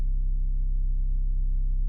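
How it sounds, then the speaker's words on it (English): A synthesizer oscillator set to a pure sine wave gives a steady, low, unwavering tone that holds at one level for two seconds. "If we start from the pure sine wave again,"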